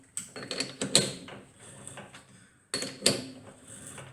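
Winding a lathe tailstock handwheel to follow a tap being cut with the motor switched off: a string of soft metallic clicks, ratchet-like ticks and small clanks at close range, in two bursts separated by a pause, with no voices.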